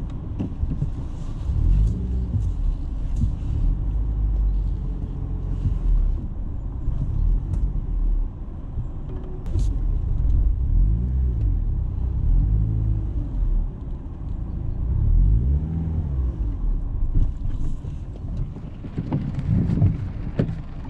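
A car engine running while being parked on a rainy day, a low rumbling drone with repeated swelling pulses and wind buffeting across the microphone, with no talk over it.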